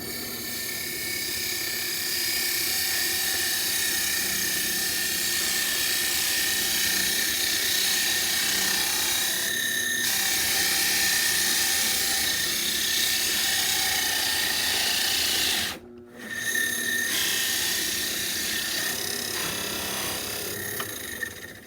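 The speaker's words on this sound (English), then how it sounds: "So stand by, we're going to drill this." A hole saw with a spider bit cuts through a 2x4 of wood in a long, continuous grinding whir with a rough rasping edge, briefly dropping out once before resuming, close and loud with no talk.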